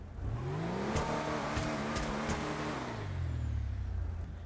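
A Vapid Peyote Custom in GTA 5 Online, fitted with a dual shotgun exhaust, revs its engine in steady rising and falling pulls, loud and continuous with no talking over it.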